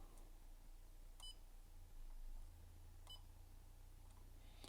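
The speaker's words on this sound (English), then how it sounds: "The initial beep is because I've got the limit set at 50 ohms." A few short, sharp electronic beeps from a multimeter testing a Tesla PMD 85 computer, spaced a couple of seconds apart, over a low steady hum.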